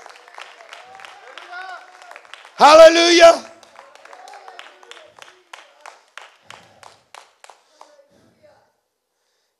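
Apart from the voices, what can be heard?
congregation clapping hands in church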